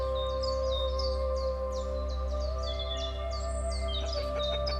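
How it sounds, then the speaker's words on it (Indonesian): Faint, distant birdsong on a misty morning at the Mataloko geothermal site in Indonesia: a series of short repeated chirps over a steady low mechanical hum and tonal drone. "suara burung samar terdengar dari kejauhan"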